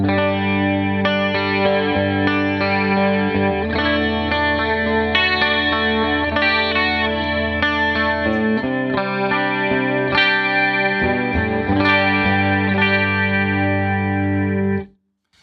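Electric guitar through a PRS Wind Through The Trees dual analog flanger pedal, with a subtle swirling, sweeping modulation, playing sustained chords and notes loudly and steadily before cutting off.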